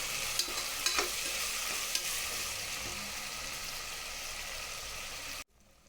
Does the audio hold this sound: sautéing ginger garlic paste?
yes